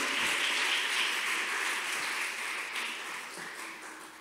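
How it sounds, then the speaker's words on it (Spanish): A church congregation clapping hard during a Spanish-language sermon, dense steady applause filling the room and slowly fading over several seconds, with faint voices underneath. "Dele palmas con fuerza al Señor"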